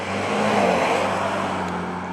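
A 2025 Ford Mustang Convertible idles and runs with its exhaust set to quiet mode, giving a steady, muted low engine drone that stays even and close throughout with no voices.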